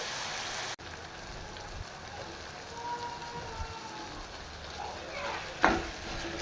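Ridge gourd curry is stirred in a pan over a quiet, steady simmering hiss, with a single sharper scrape near the end.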